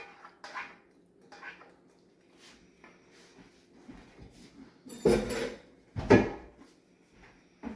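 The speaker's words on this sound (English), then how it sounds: "we're gonna dump our taco meat directly into the bottom of this pan" Cooked taco meat is dumped into the bottom of a baking pan, giving several soft thuds and scraping clatters of metal and utensils, with two louder, fuller dumps near the end, set against quiet kitchen room tone.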